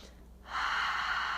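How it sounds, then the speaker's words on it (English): A deep, forceful exhale during a yoga flow starts softly, then swells into a loud, steady rush of breath that is close by and heard on its own. "Huge inhales and exhales."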